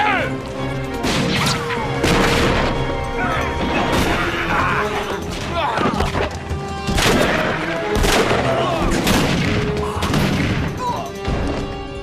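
Gunfire rings out in a shootout as a dense, continuous barrage of shots and crashes repeats in loud bursts, with shouting voices now and then.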